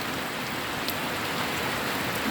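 Steady rain falls during a cold, wet day outdoors, a constant dense hiss of drops with no voices, even and unbroken throughout.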